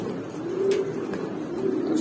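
Imported racer pigeons cooing in soft, repeated low calls, steady and fairly close, with a brief brighter note near the middle and no one talking.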